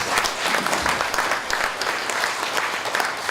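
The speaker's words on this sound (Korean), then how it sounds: "박수로 환영해 주십시오" A full audience applauds steadily to welcome a former KBS vice president and longtime news anchor to the podium at an essay book launch celebration, the clapping dense and sustained throughout.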